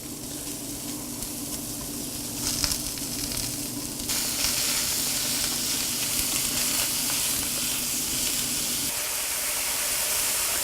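Baby bella mushrooms sizzling in a pan on a stovetop, a steady dense frying hiss with brief stirring bursts and a low hum underneath, close and continuous with no talk.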